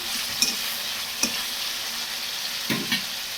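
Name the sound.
sautéing tomato chutney with salt in a pan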